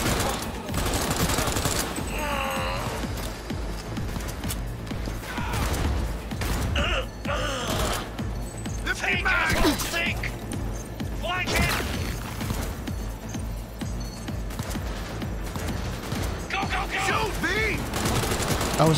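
Sustained gunfire from a Cyberpunk 2077 firefight, rapid overlapping shots and bursts running nearly throughout, with a voice and breathy gasps mixed in between the volleys.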